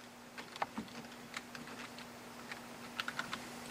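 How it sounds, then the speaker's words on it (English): Quick bursts of keystrokes on a computer keyboard, light and close, clicking in short irregular runs with brief pauses between them, no voices. "All you do is type in a task"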